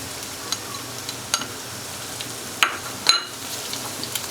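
Boiled chicken goes into a pan of frying egg rice, bringing a soft steady sizzle with scattered clicks and a couple of sharper utensil scrapes against the pan, with no talking.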